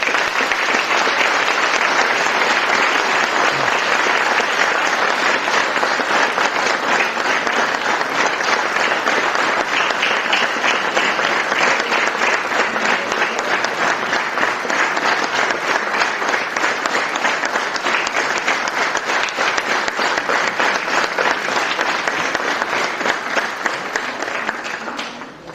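An audience at a municipal music school's patron day celebration in Strumica applauds ninth-grade students, a dense, steady roar of clapping hands sustained loudly for about twenty-five seconds before tapering at the very end.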